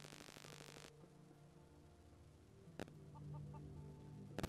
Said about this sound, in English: Is that a chicken?